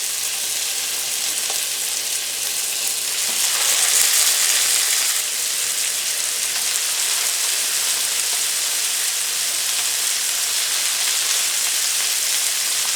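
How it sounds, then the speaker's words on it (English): Hamburger patties, already cooked through by sous vide, sear in a hot pan with a steady bright sizzle and crackle that swells briefly, close and continuous with no talking. "What we're doing is we just want the nice sear on the outside, because remember, these burgers are cooked through."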